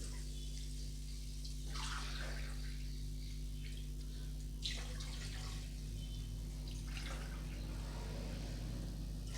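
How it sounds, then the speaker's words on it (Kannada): About three glasses of water are poured into a cooking pot for khara pongal, three separate splashing pours a few seconds apart, fairly close, over a steady background hum. "ಈಗ ಒಂದು ಮೂರು ಗ್ಲಾಸಷ್ಟು ನೀರು ಹಾಕ್ಕೊಂಬಿಡೋಣ"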